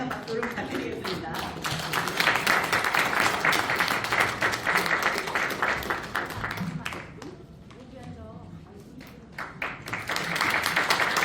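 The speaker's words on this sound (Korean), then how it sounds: "여러분들 큰 박수와 응원의 박수를 부탁드리겠습니다." An audience claps throughout a seminar hall at a foundation's launch event, sustained applause that dips briefly before swelling again.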